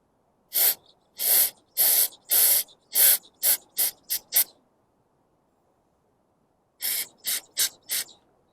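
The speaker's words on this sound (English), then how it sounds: "I will take carb cleaner." Carb cleaner blasted in a run of loud hissing spray bursts through a 1983 Shovelhead motorcycle carburetor bowl, eight close bursts shortening toward the end, a pause, then four more quick squirts.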